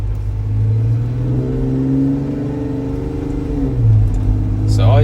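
A Jeep Wrangler 3.6 with an aFe exhaust drives on the road with the windows up, its engine a steady low drone inside the cabin that rises as it accelerates near the end, with talk over it.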